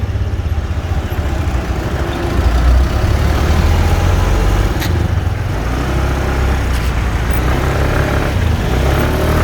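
Older carburetted Suzuki Skydrive scooter engine running steadily while riding on the road, a loud continuous drone mixed with heavy wind and road noise, no talking.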